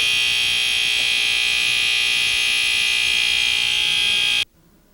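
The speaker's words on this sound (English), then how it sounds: "A case of burnt toast inadvertently proves that the smoke detectors in the group home at Indian Creek are functioning" A smoke detector in a group home shrieks continuously after being set off by burnt toast, a loud, piercing, unbroken alarm tone that cuts off abruptly near the end.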